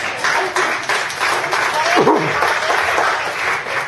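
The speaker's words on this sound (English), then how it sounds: "I think we should clap for him because he's last but not least" An audience at a public hearing on a gas-drilling lease claps steadily for a professor, a full round of applause with a brief voice and chuckle surfacing midway.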